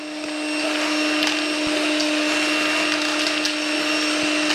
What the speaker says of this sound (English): This is going to be just the vacuum.